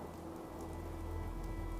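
Steady rain falls in the Fallout 4 video game, a continuous dense patter with a low rumbling undertone, even and unbroken with no voices over it.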